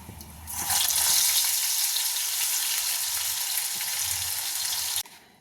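Bitter gourd frying in hot oil in a pan, stirred now and then: a loud, close, continuous sizzle that starts after a brief quiet moment, holds steady for several seconds, then cuts off abruptly.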